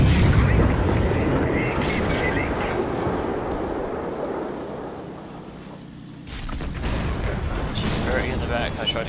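Heavy tank cannon fire in World of Tanks, an E-50M on the snowy Winterberg map, booming loud and dense with rumbling low-end blasts through most of the stretch, a brief lull near the end before the roar returns.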